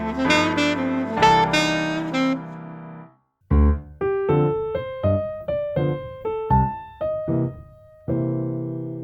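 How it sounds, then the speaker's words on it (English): A blues lick on a melodic instrument built from the major blues scale: a few ringing chords, a brief pause, then a steady run of clearly separated single notes that ends on a held tone, alone without talk. "So this lick is actually just using the major blues scale."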